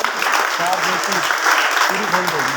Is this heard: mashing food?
no